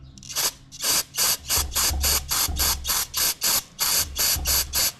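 Carburetor cleaner sprayed in repeated short hissing bursts into a small engine carburetor's tiny passages, about a dozen sharp close spurts in a steady rhythm with brief gaps.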